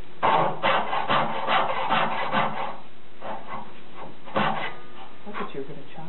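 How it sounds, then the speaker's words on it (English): A Lee Valley carcass saw cuts through wood in a rhythmic series of rasping strokes. A quick run of strokes is followed by a pause, then a few more, close and clear. "I'm going to cut down to these lines so we can waste away all of the big stuff."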